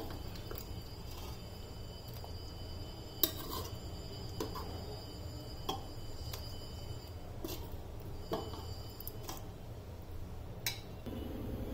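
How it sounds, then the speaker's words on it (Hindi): A metal spoon stirs spice masala into dal in a cooking pot, with scattered light clinks and taps against the rim over a soft low background, each knock brief and close. "और अब हम इस मसाले को हमारी दाल में मिक्स करेंगे, दाल में डालेंगे"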